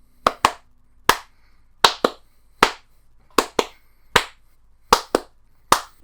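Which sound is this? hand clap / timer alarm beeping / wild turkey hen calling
hand clap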